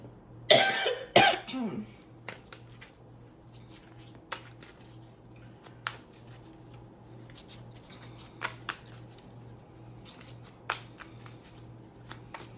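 Tarot cards riffle in a loud burst of shuffling, then single cards are drawn and laid down in scattered soft slaps and flicks over a low steady hum, with no voices.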